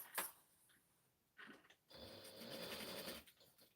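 A home sewing machine runs in a single steady stitching burst lasting about a second and a half, close and moderately loud, with a few faint handling clicks before it in a quiet room.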